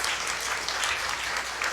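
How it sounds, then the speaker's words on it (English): A brief, dense burst of audience applause fills a talk on medical cannabis for neurological conditions, steady and fairly loud throughout. "The applause really should be, though, for Jana."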